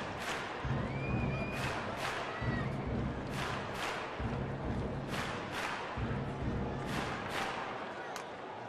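Large baseball crowd at a Rockies home game in Colorado, a steady broad roar of many voices with periodic swells and bursts of noise, heard close and continuous throughout.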